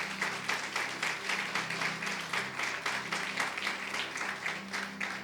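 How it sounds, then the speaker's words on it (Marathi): A church congregation claps hands steadily through a Sunday sermon, a dense, continuous wash of applause at moderate level with a low hum underneath and no speech over it. "जरा वचनाविषयी देवाला टाळ्या वाजवून धन्यवाद द्या देवाला"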